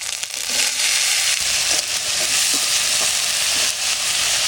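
Taro pieces and ginger paste hit a hot pan for a taro curry, giving a steady close sizzle and hiss with a few soft stirring scrapes, alone.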